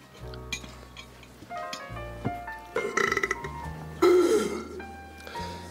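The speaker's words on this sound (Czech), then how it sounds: "Jakkoliv je říhnutí u stolu v některých kulturách považováno za projev dobrého zažití" Burping at a dinner table: several loud belches rise and fall, broken by the clink of cutlery and dishes.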